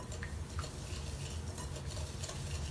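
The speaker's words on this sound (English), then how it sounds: "I'm gonna pour my melted butter and my sugar. I'm gonna start whisking that up." Melted butter and sugar are whisked in a single bowl for gluten-free brownie batter, giving a soft, continuous stirring and scraping with faint light clinks of the whisk against the bowl, quiet and close.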